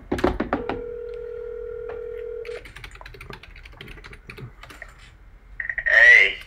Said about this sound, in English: I'm gonna call Junior now